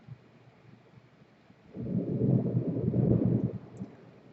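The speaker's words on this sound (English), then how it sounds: "I don't know if you heard that, but that is thunder." Distant thunder from an approaching storm gives a low, muffled rumble that swells for about two seconds and then fades, heard alone with no talking.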